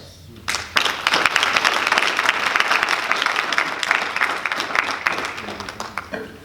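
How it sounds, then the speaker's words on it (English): Sustained audience applause with some cheering fills a meeting hall, dense, loud clapping starting abruptly and continuing steadily throughout. "we're going to continue to clap our hands and stand up and cheer loudly"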